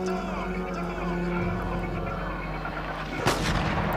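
A gunshot from the video game The Getaway, a single sharp burst near the end over a steady bed of game music and ambience, with no talk over it.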